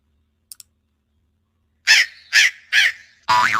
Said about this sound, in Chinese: 我们看一下在这里就有一个乌鸦的这个音效